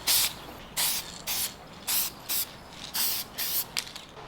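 Gold metallic lacquer is sprayed onto metal radio-cabinet parts in about eight short, sharp hissing bursts, each roughly a quarter second long with brief gaps between, close and clear with no talking.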